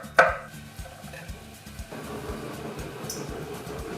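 A clove of garlic chopped with a knife on a board while preparing a feta vegetable bake: one sharp strike, then a steady run of quick, rhythmic knife taps, close and clear, with no voices.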